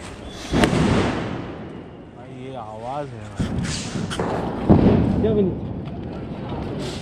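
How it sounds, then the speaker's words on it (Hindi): Rope bomb firecrackers going off during Diwali celebrations in Mumbai, sharp blasts and crackling bursts scattered through the stretch, with people talking and shouting throughout. "ये रस्सी बम जला"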